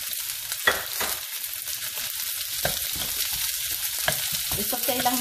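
Onion frying in a pan for ginataang langka with pork, a close, steady sizzle punctuated by a few sharp scrapes and clicks of a spoon stirring, no voices.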